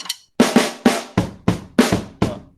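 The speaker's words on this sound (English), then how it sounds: "and then play them with your kick and snare" Drum kit kick and snare beating out a sung melody rhythm, about eight sharp punchy hits in an uneven pattern, close and loud with no voice.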